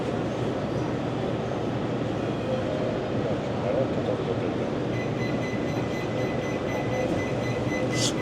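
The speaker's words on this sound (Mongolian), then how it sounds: "Чиндао хотын метро." A Qingdao city metro train runs along, giving a continuous rumbling rail noise with steady wheel hum and faint high squeals toward the end.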